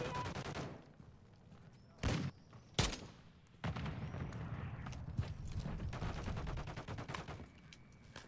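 Gunfire in the video game Modern Warfare III: a few sharp, separated shots stand out over a steady rumble of battle noise, with scattered distant pops and clatter throughout.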